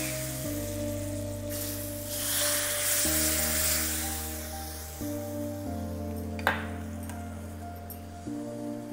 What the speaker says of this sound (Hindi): बस गैस बंद कर देंगे और ये बघार कढ़ी में डाल देंगे हम